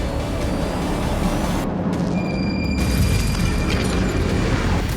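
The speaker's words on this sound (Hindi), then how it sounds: "ये यमन की राजधानी सना पर हुए हमले का वीडियो है, जिसमें एयर स्ट्राइक की आवाज साफ सुनी जा सकती" Air strike explosions hit Houthi targets in Sanaa, Yemen, a continuous roaring, rumbling barrage with booming surges that stays loud for the whole stretch.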